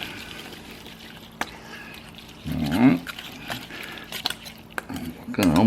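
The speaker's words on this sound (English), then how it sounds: "I'm going to whisk this all together." Chimichurri sauce of parsley being whisked in a bowl, with a couple of short scraping, swishing bursts against a quiet background, and a voice talking softly in between.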